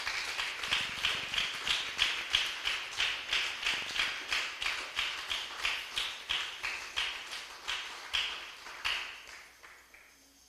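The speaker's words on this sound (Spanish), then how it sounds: "Dale un fuerte aplauso al Señor, amigo." A church congregation applauds in a steady run of sharp, evenly spaced claps, moderately loud and carrying on for several seconds without speech.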